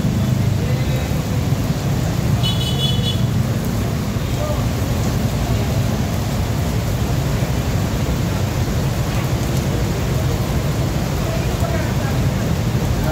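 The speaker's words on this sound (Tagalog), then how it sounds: "napagkalakas ng ulan" Heavy rain pours steadily, a dense, unbroken wash of noise that stays loud and even throughout.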